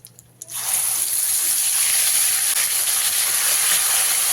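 After a short quiet start, a sudden loud sizzle erupts as wet ginger spice paste hits hot oil for a young jackfruit curry, then holds as a steady, intense hiss.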